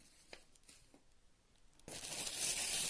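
Parcel packaging is handled quietly at first with a few soft taps, then a sudden loud crinkling and tearing of plastic or paper begins and continues close to the microphone.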